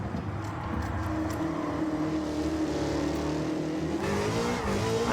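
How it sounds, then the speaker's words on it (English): The Roadster Shop Road Rage Camaro's engine roars flat out on a racing track, a loud sustained growl rising and shifting in pitch, heard close from inside the car with no talking. "I'll shut up so that you can hear the beast of an engine that this car has."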